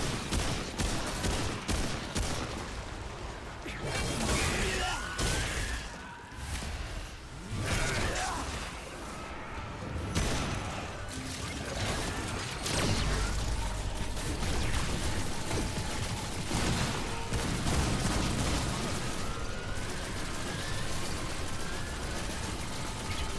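Sustained, loud gunfire from a gun in Remnant 2 rattles on for the whole stretch in fast bursts and steady volleys, mixed with mechanical clanks and whooshing combat effects.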